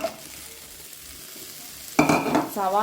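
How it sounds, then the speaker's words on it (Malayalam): Sliced onions fry in coconut oil, a soft hiss at first that jumps into a loud burst of sizzling and stirring near the end, close and with no talk. "ഇനി നമുക്കിതിലേക്ക് നമ്മൾ എടുത്തു വെച്ചിരിക്കുന്ന സവാള"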